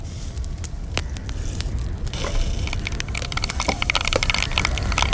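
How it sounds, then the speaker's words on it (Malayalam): Mustard seeds pop and splutter in hot coconut oil in a clay pot, a steady crackle of sharp snaps and spits close up, with no talking. "കടുകെല്ലാം പൊട്ടി വന്നിട്ടുണ്ട്."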